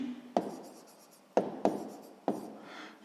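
Pen or chalk writing a number during a sixth-grade maths lesson, a few sharp strokes and scratchy taps spaced apart, quiet and close with nothing else heard.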